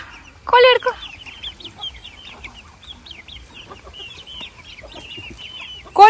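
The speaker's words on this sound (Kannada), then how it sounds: "ಹಿಡ್ಕೊ ಕೋಳಿ ಹಿಡ್ಕೊ." A farm chicken clucks repeatedly while being held, short close clucks in an irregular run with a louder squawk near the start and at the end, faint voices in the background.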